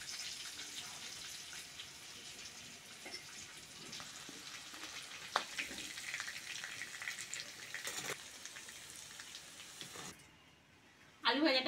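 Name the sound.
potatoes and green chilies frying in oil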